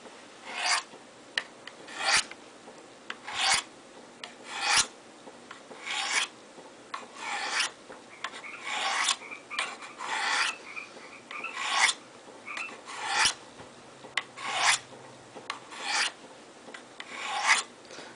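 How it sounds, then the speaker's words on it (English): A knife blade drawn across Spyderco Sharpmaker stones, about eighteen rhythmic rasping strokes, close and fairly quiet, alternating at an even pace with brief gaps between passes. "let's go ahead and do that now, because we're going to do this real-time sharpening"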